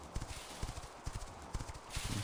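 Horse hooves in the video game The Quinfall, a quick rhythmic clip-clop of galloping strides, fairly close and clear, with no talking.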